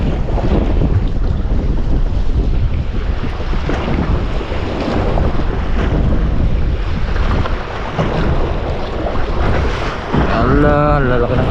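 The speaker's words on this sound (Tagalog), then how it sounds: "Kahit malakas ang alon," Strong sea waves surging around a small fishing boat, a loud continuous wash of water and heavy wind buffeting the microphone, with a brief voice near the end.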